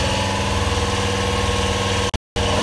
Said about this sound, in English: That would be my Harbor Freight compressor. I've got a leak somewhere in the lines, so it kicks on.